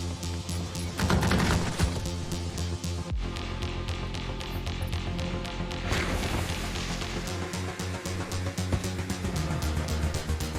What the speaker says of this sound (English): This gun goes brrr, and you should use it.